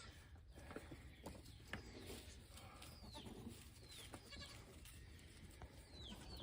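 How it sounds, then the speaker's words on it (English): Young goat bleating in a barn, with several short wavering calls spaced through the clip over steady background noise, mixed with chirping birds. "Pebbles will realize that this one's still just a young goat"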